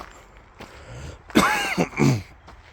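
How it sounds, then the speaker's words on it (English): A close, rough cough with throat clearing, a couple of harsh bursts against a quiet room. "You're going to hear me cough in this video."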